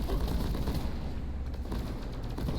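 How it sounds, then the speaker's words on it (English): A burst turret firing in Deep Rock Galactic, with rapid rattling bursts of gunfire and booming impacts that stay loud and continuous through the whole short stretch. "There's a burst turret that found me."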